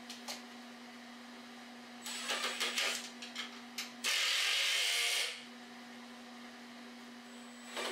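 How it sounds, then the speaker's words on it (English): Cordless drill driving screws into the carcass of a wooden hutch cabinet, in a few short whirring bursts followed by one longer steady run, close and fairly loud over a constant low hum. "You can see me here putting a couple of screws, again, just to secure the whole thing."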